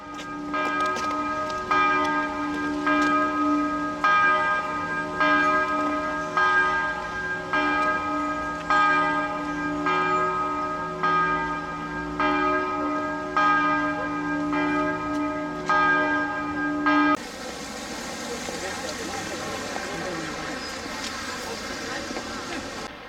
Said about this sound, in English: The only sound you can hear is that of church bells.